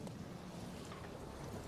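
Steady wind and water rush around a boat out at sea, a continuous broadband roar with no distinct events, moderately faint and unbroken throughout.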